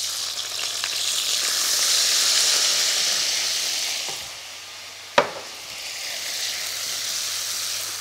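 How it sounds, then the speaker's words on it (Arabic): Grated onion frying in melted butter in a pan gives a steady close sizzle that eases off midway. A sharp clink from the pan stands out before the frying hiss builds again, and no one talks. "بعد ما ذابت لي هذيك الزبده ندير بصله مسكرفجه"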